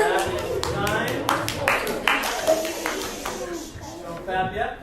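Scattered audience clapping at a classroom debate, a burst of sharp, uneven claps lasting several seconds, with talking heard alongside.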